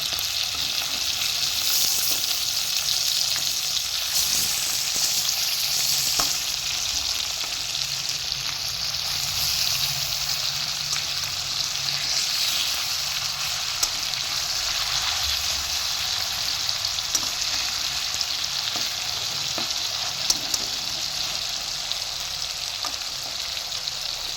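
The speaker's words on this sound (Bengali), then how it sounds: "আমি মাংসটা হাই ফ্লেমে ভাজছি" Chicken pieces frying on a high flame in a pan, dhaba style, with a loud, dense, continuous sizzle that runs unbroken from start to end. Nobody speaks.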